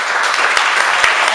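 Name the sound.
applause for the staff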